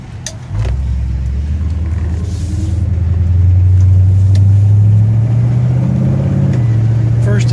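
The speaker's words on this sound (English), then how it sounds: "First to second at about 18 miles an hour. Second to third at about 30, 32." A 1964 Chevelle convertible with an automatic transmission pulls away and drives on. Its engine rumble rises and steps down as the gears change, loud and close throughout.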